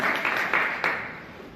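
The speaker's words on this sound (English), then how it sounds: "Can we get another round of applause for a fantastic session?" Audience applause at a Toastmasters meeting: a dense wash of clapping with a couple of sharper surges, then gradually thinning and fading over about a second and a half.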